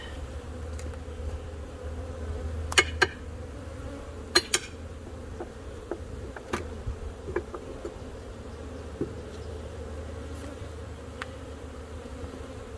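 Honeybees buzz around an open hive during a spring inspection, a steady close drone with scattered sharp clicks and knocks from the hive frames and tools.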